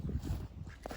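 Ducks near a pond give a short burst of quacking, close by and moderately loud, over a quiet outdoor background.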